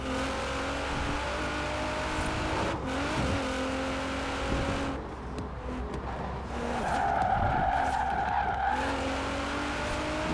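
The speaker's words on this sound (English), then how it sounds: "The GTR drifts quite nicely." A Nissan GTR drifts in Forza Horizon 4, tires squealing and skidding continuously over a droning, revving engine that dips and climbs again, close and loud with no talking.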